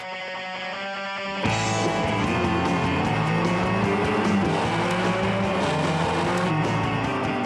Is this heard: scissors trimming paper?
no